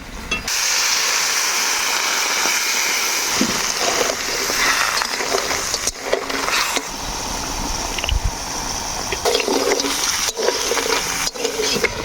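Water poured into a pan for boiling crabs in a Bengali kitchen, a steady loud hissing, splashing rush that runs continuously, briefly interrupted, with faint sounds in the background.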